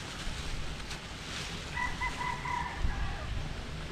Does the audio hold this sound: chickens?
yes